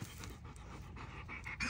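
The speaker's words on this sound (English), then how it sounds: "Crazy dog." A restless dog pants in quick, steady breaths close by, soft and continuous with no talking, beside an old 1968 GMC V8 truck left sitting for years.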